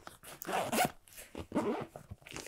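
Zipper on the lower pocket compartment of a Condor Assault Compact Gen II military backpack, pulled in two quick, close rasping strokes with a short pause between them.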